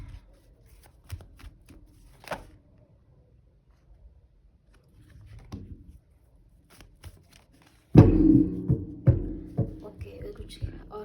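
Tarot cards are handled and shuffled close up, soft scattered taps at first, then a louder burst of rustling and riffling toward the end, with a person talking quietly in between.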